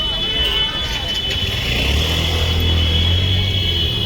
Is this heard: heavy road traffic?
yes